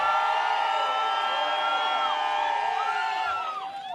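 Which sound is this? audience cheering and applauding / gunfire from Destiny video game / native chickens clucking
audience cheering and applauding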